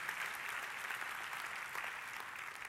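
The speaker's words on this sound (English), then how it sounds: "give yourself a round of applause" Faint, continuous applause from a school board association conference audience during a speech, an even wash of clapping heard from a distance.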